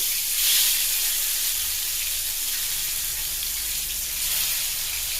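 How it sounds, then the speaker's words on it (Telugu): Finely chopped tomato pieces for a tomato chutney sizzle in a pan. The frying gives off a steady, dense hiss close by with no voices. "ప్యాన్లో టమాటా ముక్కలు, సన్నగా తరుక్కున్న టమాటా ముక్కలు"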